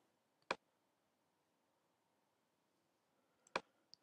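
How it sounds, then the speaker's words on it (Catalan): A computer mouse double-click, two sharp, close clicks separated by about three seconds of near silence, with a faint extra tick at the end. "I aquí fem doble clic"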